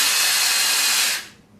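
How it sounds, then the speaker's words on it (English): A power drill spins with a bright, steady whine and hiss for just over a second before winding down, close and loud with no talk. "I'm gonna spin this drill."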